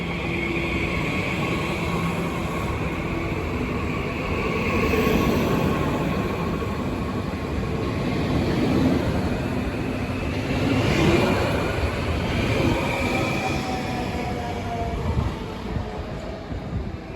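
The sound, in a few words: Twindex regional train arriving at platform 11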